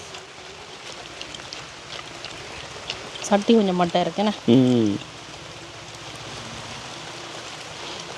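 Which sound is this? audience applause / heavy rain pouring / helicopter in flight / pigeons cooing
heavy rain pouring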